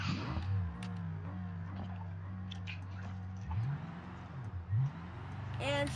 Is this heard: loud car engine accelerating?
yes